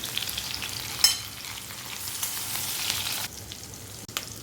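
Onions frying in hot oil, a bright, even hiss of sizzling close by, with a couple of sharp stirring clicks and a brief dip midway.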